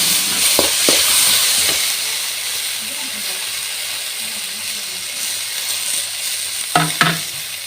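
Garam masala spices, cinnamon, cloves, cashews and tomato frying in a pan for a home-style Tulu gravy, with a steady close sizzle and hiss and a few brief stirring knocks near the start and end.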